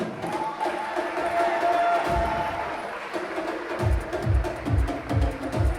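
Audience at a Slovenian school graduation ball applauds and cheers, a sustained crowd roar with a rhythmic train of low thumps, likely stamping or rhythmic clapping, building toward the end.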